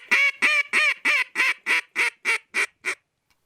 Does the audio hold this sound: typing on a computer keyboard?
no